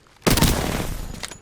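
R-99 submachine gun in Apex Legends firing one continuous, loud, close full-auto burst lasting just over a second, starting abruptly after near silence.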